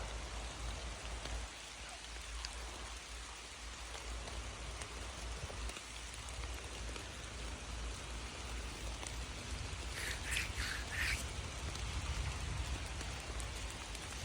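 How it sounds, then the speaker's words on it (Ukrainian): Gentle rain falls continuously through beech forest foliage, an even pattering wash with a few faint brief ticks, no one speaking. "Дощ невеличкий."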